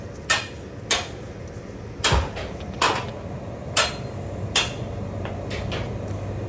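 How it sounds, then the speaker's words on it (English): A hammer knocks a metal piece off a Toyota Camry engine cradle: roughly nine sharp, ringing metallic strikes at irregular intervals, close and loud over a low background rumble. "That's what I'm doing right here with the hammer."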